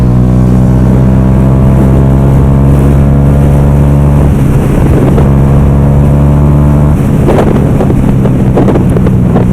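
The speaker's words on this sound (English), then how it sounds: "the exhaust is not stock, it's an Akrapovic exhaust, so obviously this is going to sound a lot different to a stock Yamaha R125" A Yamaha YZF R125 motorcycle fitted with an aftermarket Akrapovic exhaust runs loud and close, its steady engine drone shifting in pitch as it revs, with heavy wind buffeting over the microphone.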